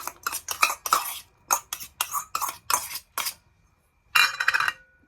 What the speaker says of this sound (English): I'm just gonna thoroughly mix it for even mixture